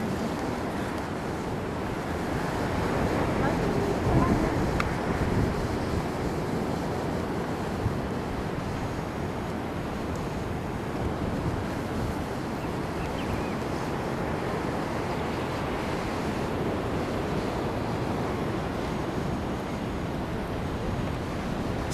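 Ocean surf washes steadily onto the sand at Jacaraípe beach, a continuous broadband roar with heavy wind buffeting the microphone throughout, no distinct breaks standing out.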